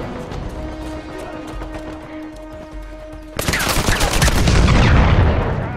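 Sudden heavy bursts of gunfire erupt midway through an Uncharted 4 multiplayer match, a loud, dense, sustained volley following a quieter stretch of game music and ambience.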